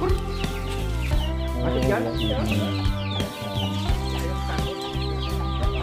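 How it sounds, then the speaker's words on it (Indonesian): Free-range village chickens on an Indonesian farm cluck and chatter continuously close by, overlapping calls rising and falling while someone talks over them. "Oh itu ayam kampung juga Pak"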